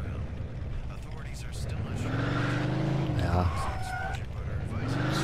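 Car engine and tire noise from the video game Mafia 2 Definitive Edition, a steady revving drive with a brief skid or squeal near the middle, under someone talking.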